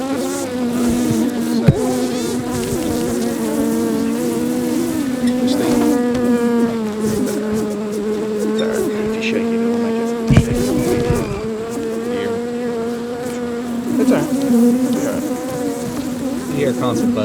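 Honeybees swarming around an open first-year hive, a dense constant buzz with individual bees droning close past, loud and continuous, with a couple of sharp knocks.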